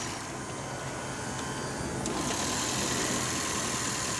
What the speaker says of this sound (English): This is a hybrid vehicle. This little motor turns on and off as is needed.